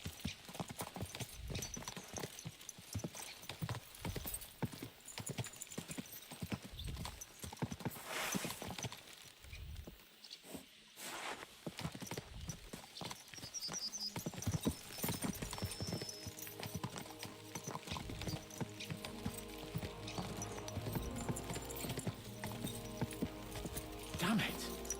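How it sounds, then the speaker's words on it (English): Rhythmic clip-clop of horse hooves at a fast pace in Kingdom Come: Deliverance 2, with occasional whinnies, music and someone talking over the galloping. "Let's really spur these horses on, eh?"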